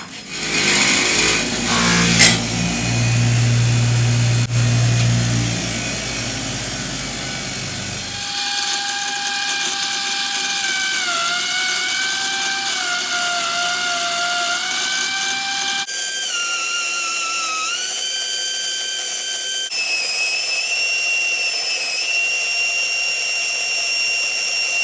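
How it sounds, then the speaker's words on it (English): A die grinder fitted with a flap wheel cleans pitting from metal on a Chevelle, giving a loud, steady high-pitched whine that shifts in pitch as the load changes, after a few seconds of lower rumbling handling noise. "probably try a flap wheel on a die grinder. See if we can't clean that up that way."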